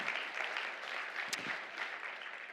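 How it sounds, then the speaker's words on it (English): An audience at an annual education debate claps for the Americans in the room at Thanksgiving, a steady wash of applause from a crowd, moderately faint and continuous throughout. "So what about if we give all the Americans a round of applause in here for Happy Thanksgiving?"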